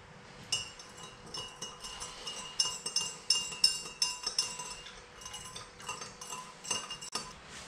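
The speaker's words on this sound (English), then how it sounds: "So I'm gonna stir it more, I'm gonna agitate it more to try and dissolve as much as possible." A spoon stirs sugar solution in a glass to dissolve it, producing rapid, repeated bright clinks against the glass, near and fairly loud, in irregular bursts.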